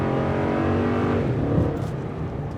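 A 2021 Toyota Tundra 1794 Edition's 5.7 liter engine pulls with a steady, moderately loud drone that tapers slightly toward the end.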